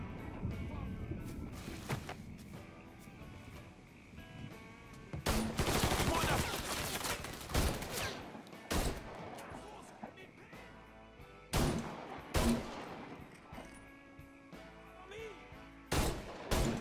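Gunshots ring out in the Mafia 3 game as loud, sharp bursts scattered through a quieter scene, some coming as quick clusters and others as single cracks, with brief speech and game ambience in between.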